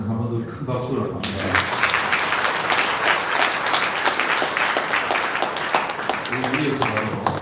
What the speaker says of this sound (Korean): 한 번 더 큰 박수를 합니다.